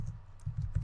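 Short burst of computer keyboard typing as a command is entered into a terminal while setting up Node on an Amazon EC2 server; a few quick, close keystrokes with no speech.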